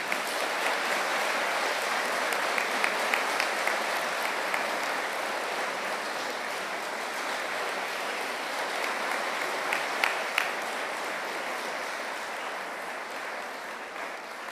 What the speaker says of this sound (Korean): 꽃다발을 증정할 때 여러분들 큰 박수로 함께 축하해 주시기를 바랍니다